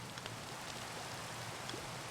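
Steady rain falling in the Minecraft video game, a continuous soft hiss of drops with faint scattered patters, even and unbroken throughout with no talking.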